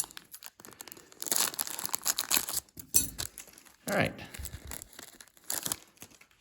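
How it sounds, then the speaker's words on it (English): Scissors cut through the cellophane wrappers of 1983 Topps and 1987 Fleer baseball card packs, producing close, loud crinkling and tearing in uneven bursts, with someone talking briefly. "We'll just cut both these cells."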